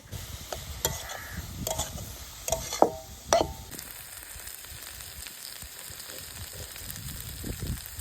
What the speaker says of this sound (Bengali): নিম পাতা ভাজা হয়ে গেছে